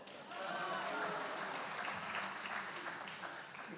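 Audience clapping during a magic trick at a gala, a dense, fairly quiet wash of applause that swells quickly and holds steady throughout, with murmurs of voices mixed in.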